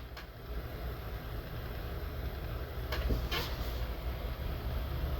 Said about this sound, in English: And they steamed onto the main line.